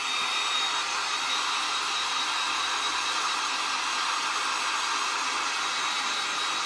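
A hair dryer blows continuously at close range while drying a handmade frame flower holder, a steady even rushing whoosh with no talking.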